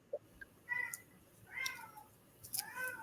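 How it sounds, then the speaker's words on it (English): A house cat meows several times at moderate distance, short separate calls spaced across a few seconds against a quiet room background. "and so if you hear my kitty cat"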